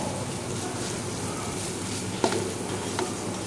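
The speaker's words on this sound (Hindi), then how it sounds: "थोड़ा सा 1-2 मिनट इसको बस अब हम और भूनेंगे।" Minced beef keema sizzles in a hot pan as it is fried, a steady close crackling hiss broken by a couple of brief scraping stirs.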